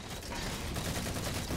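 Rapid, dense gunfire from a full magazine emptied in the Halo 4 video game, a continuous loud burst of shots running through the whole stretch.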